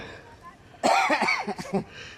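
A child eating breaks into a short fit of coughing: several quick, close coughs in a cluster after a few quiet seconds, then stopping.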